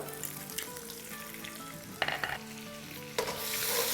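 Green chillies and ginger sauté in a pan with a steady sizzle and stir, with sharper scrapes and spatters around the middle and again near the end.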